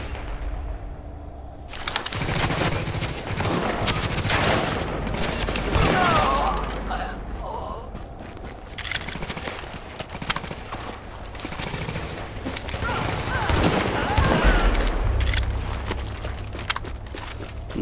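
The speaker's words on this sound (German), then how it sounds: "Das ist mal irgendwo ein Sniper." Sniper and other gunfire rattle almost without pause through a dense, loud firefight in the video game The Division, layered with mechanical clatter and rumbling impacts.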